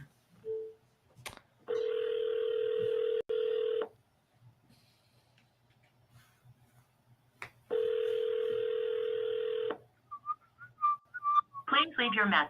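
Phone tones for a cell phone call during live cold calls: two long, steady ringback tones with a silent gap between them, followed by a quick run of dialing beeps, with faint room noise.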